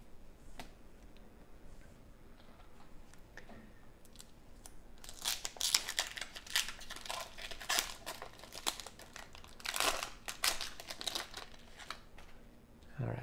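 Foil wrapper of a 1992-93 Fleer basketball card pack being torn open, a run of close crinkling and ripping bursts in the middle and again near the end, with quiet stretches between.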